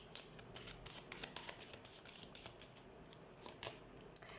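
Tarot or oracle cards being shuffled by hand, a run of quick papery riffles and soft slaps that carries on steadily, close and fairly quiet, with no talking.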